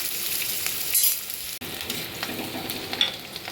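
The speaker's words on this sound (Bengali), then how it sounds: "এবার আমি এটাকে একটু ভেজে বেরেস্তা বানিয়ে নিই।" Onions sizzle and fry in hot oil for birista, a close and steady crackle with a few stirring scrapes and no voices.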